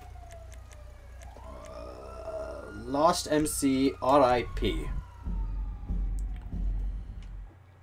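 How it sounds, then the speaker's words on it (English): Police siren from the video game GTA V Online, a rising and falling wail sweeping across the first seconds, then partly buried as people talk loudly over it. "Whoop, whoop, it's the sound of police."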